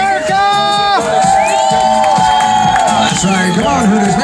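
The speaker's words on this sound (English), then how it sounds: "make some noise, clap your hands" Lively crowd cheering and whooping at an outdoor bikini contest of Hooters girls in Sanford, Florida, loud and continuous, with shouts and a host's amplified voice woven through the noise.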